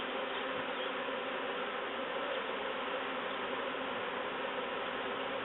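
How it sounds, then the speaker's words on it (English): Honey bees from a caught swarm pour into a top bar hive through its entrance hole, giving an unbroken, loud, close drone of many wings throughout. "Seems to be pretty much one-way traffic of bees going into the hive"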